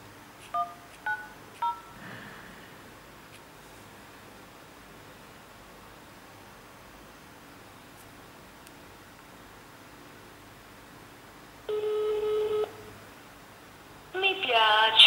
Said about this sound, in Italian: Andiamo un attimo a effettuare una telefonata.